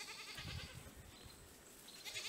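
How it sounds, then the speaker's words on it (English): Goats on a farm bleating and calling, a few faint, distant cries over a quiet outdoor background with no one talking. "my goats are yelling"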